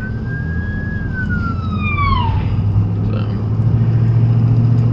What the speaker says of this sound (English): We got an ambulance coming.